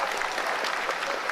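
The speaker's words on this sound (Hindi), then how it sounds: "आप सुन पा रहे थे तालियों की गड़गड़ाहट" Scientists in the Chandrayaan-3 lunar landing mission control room break into applause, a brief, dense wash of clapping heard from within the room.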